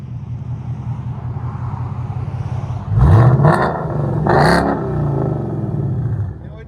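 A Ford Mustang GT with a 5.0L V8 idles with a deep burble, then gets two sharp revs that rise and fall back, loud and close, while people talk nearby.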